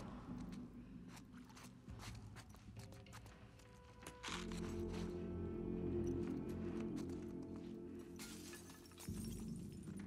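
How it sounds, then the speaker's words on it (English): Glass shatters and crunches underfoot in The Last of Us Part II, a few brittle cracking steps heard close over a steady game ambience and background music. "I'm stepping on glass."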